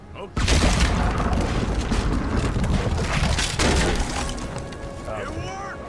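Dynamite blast in Red Dead Redemption 2, a sudden loud boom followed by crashing debris and rumbling that lasts several seconds, then fades under ambient game sound with a few bird-like chirps at the end.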